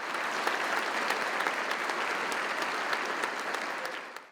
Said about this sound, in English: Have one more round of applause for Dr.